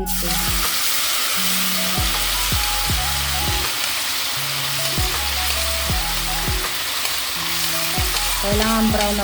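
Tofu fries in a pan for sisig, a loud, steady sizzle and crackle that runs throughout, close to the pan, with light stirring and music playing underneath.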